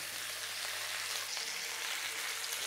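Steak end cap fat sears in a hot pan with a steady, close, loud sizzle that holds unbroken throughout, with no talking.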